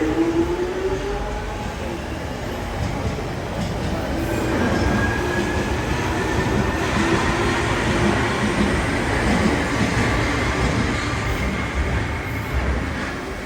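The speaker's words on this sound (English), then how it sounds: "Okay, so our Stanmore train's in." A London Underground Jubilee line train to Stanmore pulls into Wembley Park, a loud, continuous rumble of wheels and motors with faint squealing tones gliding downward as it slows.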